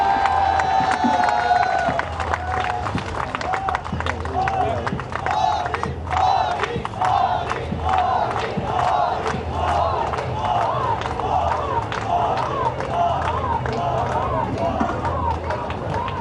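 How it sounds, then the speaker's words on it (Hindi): A large outdoor crowd at a Dussehra celebration on Lal Qila Maidan in Delhi roars with cheers, shouts and scattered clapping, a loud continuous wash of voices throughout. "जोरदार तालियों के साथ सम्मान करें"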